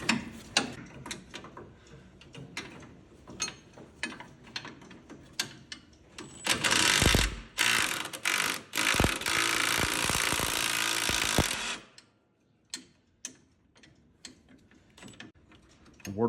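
Ratchet wrench working old rusty bolts loose on a Jeep CJ-2a, a few scattered clicks and then a dense, loud burst of fast ratcheting lasting several seconds before quieter intermittent turning resumes.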